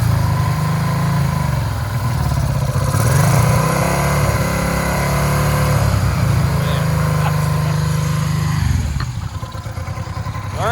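A donor motorcycle for a chopper build runs while being cleaned out with foam, its engine held at a steady loud rev with slow rises and dips, then dropping near the end.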